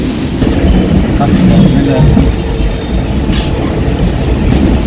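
A train at platform one of Kozhikode railway station gives a loud, continuous rumble and rolling clatter close by, with a voice heard over it.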